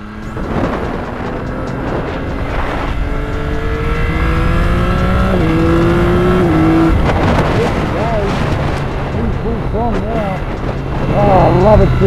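A Yamaha R9 superbike's triple-cylinder engine revs up loud and close, pitch climbing in rising sweeps, then settling and blipping in wavering pulses near the end.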